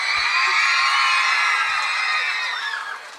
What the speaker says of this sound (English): that got a louder scream than my introduction